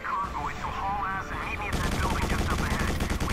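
Rapid gunfire in the Quake 4 video game as turrets are shot down, a dense stream of bursts over game music and effects that grows louder partway through.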